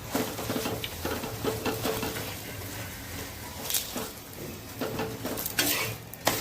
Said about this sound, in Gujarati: બંને બાજુ આપણે ઢેબરું શેકી લઈશું